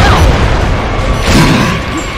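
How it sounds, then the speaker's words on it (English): Mortar shells burst in Gears of War: Judgment, a dense rumbling boom swelling midway through a constant din of battle noise, with a voice briefly heard underneath. "Anyone spot those mortars? Sounds like they're coming from that big building!"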